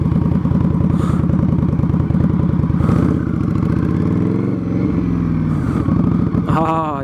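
Victory Octane motorcycle with an RPW full exhaust, a close, loud, throbbing engine note held steady with slight shifts in pitch, ending in a quick rev.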